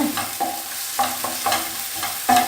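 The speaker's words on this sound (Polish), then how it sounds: "Wrzucam moją poszatkowaną cebulę." Chopped onion sizzles in a pan of oil while being stirred, with scraping strokes repeating roughly every half second over a steady close frying hiss.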